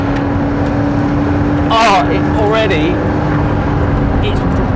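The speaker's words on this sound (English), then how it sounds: "You can probably hear the noise levels building up as we get further into the throttle" McLaren P1 engine on a race track, a steady droning note under throttle running beneath continuous close-up talk from inside the car.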